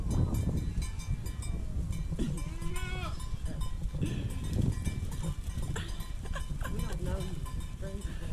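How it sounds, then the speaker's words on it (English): Baby goats bleat on a ranch with a turkey nearby, their wavering cries rising repeatedly over steady barnyard noise while people talk close by. "he has baby goats, and we get to go in and play with the baby goats"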